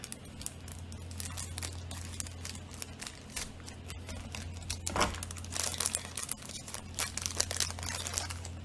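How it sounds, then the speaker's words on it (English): Plastic packaging on a Japanese snack box is cut and crinkled close up, with crackly bursts and snips running throughout, getting busier toward the end, over a steady low background hum. "It's really stuck in there, so I'm going to have to cut the packaging a little more"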